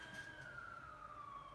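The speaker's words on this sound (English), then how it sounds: "They're not coming for me. That siren." A wailing emergency vehicle siren outside, a single steady tone slowly falling in pitch over a low ambient rumble, moderately distant and with no one speaking.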